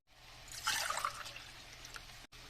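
Water poured from a glass into a pot for millet and vermicelli upma, a brief close splashing gush that settles into a softer trickle before stopping.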